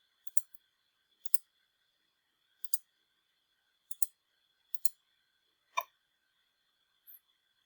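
Mouse clicks while editing a web page and deleting a block of content, heard as about seven sharp, faint, isolated clicks, most of them quick doubles, spaced irregularly over a quiet background with no talking.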